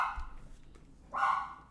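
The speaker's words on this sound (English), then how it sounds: "Now Winston's gonna do his barking." A dog gives two short barks indoors, one right at the start and a second louder one about a second later.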